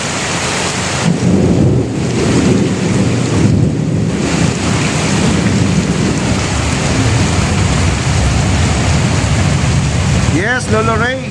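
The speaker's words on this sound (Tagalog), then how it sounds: "Napakalakas po ng ulan." Heavy tropical downpour roaring steadily with rumbling thunder throughout, loud and close, dusk setting in a stranded outdoor spot; a brief faint voice near the end.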